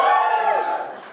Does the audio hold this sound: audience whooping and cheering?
yes